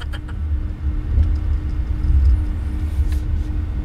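A low, steady electric hum with soft road rumble as a 2024 Dongfeng Forthing Friday electric car rolls along at low speed, with no talking.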